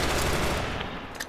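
Gunfire from the WarRock online shooter fills the moment with a dense, loud roar of shots that tails off toward the end, with no voices over it.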